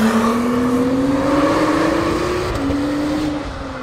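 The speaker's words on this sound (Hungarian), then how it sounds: "versenyautó, versenyautó" A Honda NSX race car engine revs loud and close, its pitch climbing steadily through the gears with a brief shift dip before fading slightly at the end, no talk.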